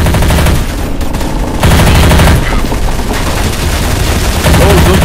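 Dense, loud automatic gunfire from Counter-Strike: Source in a zombie survival mod on a storehouse map, rapid bursts of shots overlapping continuously with a couple of brief lulls, with voices talking underneath.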